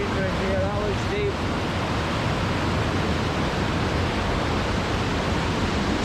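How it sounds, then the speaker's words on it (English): Loud, steady rush of a ferocious Scottish river in winter, churning like a bubbling cauldron, a continuous broadband roar close to the microphone with faint voices briefly audible near the start. "It's like a bubbling cauldron of water"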